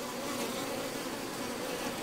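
Honey bees buzz steadily at an open hive during a honey production inspection, a dense, continuous close hum with no pauses and no voices.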